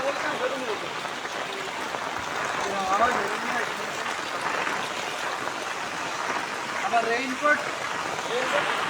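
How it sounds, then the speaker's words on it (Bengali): Heavy rain pours down in a rural village, a dense, even hiss of drops on surfaces, with faint voices mixed into the wash. "প্রচুর বৃষ্টি শুরু হয়েছে"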